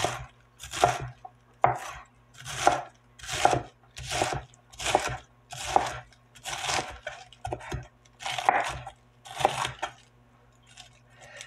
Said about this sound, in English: you hear that crunch of the lettuce?